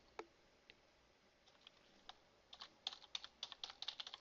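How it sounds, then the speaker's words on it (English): Keys tapped on a computer keyboard in a quiet room, a few sparse clicks at first, then a quick burst of rapid, crisp keystrokes near the end, with no talking. "Okay, so we type Greenville, we click create"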